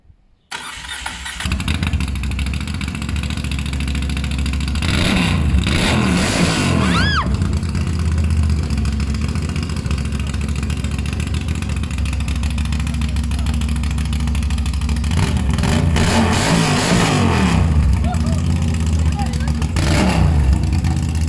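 A motorcycle engine with an open exhaust fires up and idles with a loud, raw exhaust note, rising in two sharp revs before settling back to a steady rumble.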